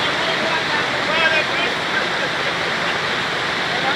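Floodwater rushes through a gate during flooding in St. Thomas, Jamaica, a loud, continuous, close roar of heavy flowing water with no break.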